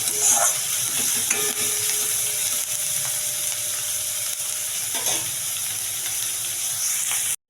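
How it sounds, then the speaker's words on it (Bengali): Onions fry until brown for butter chicken masala, a loud steady sizzle close up with occasional stirring scrapes, cutting off abruptly at the end, no talking. "পেঁয়াজগুলো ব্রাউন করে ভেজে নিই।"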